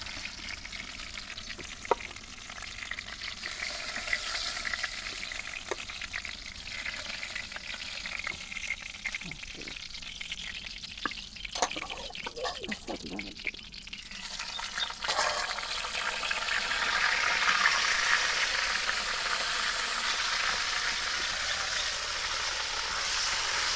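Steady sizzling of pointed gourd frying in oil, with scattered spoon clinks and scraping in the middle, then the frying hiss grows louder toward the end.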